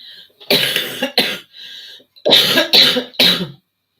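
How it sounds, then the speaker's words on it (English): A run of rough, throaty coughs from a person near laryngitis, two short bursts, a pause, then three quick harsh coughs close to the microphone, with near silence between. "It's not a cold cough."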